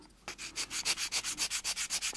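A plastic model kit part is sanded with fine sandpaper where it was cut from the sprue, about a dozen quick, rhythmic back-and-forth rasps, close and clear.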